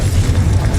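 A Confringo blasting spell goes off in Hogwarts Legacy as a single loud, deep boom that rumbles for under a second.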